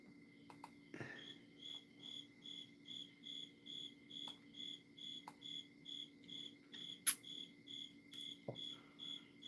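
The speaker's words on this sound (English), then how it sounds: "You heard that cricket again?" A cricket chirps indoors in a workshop, repeating short regular trills about once a second, fairly faint over a low steady hum, with a couple of brief clicks and knocks in between.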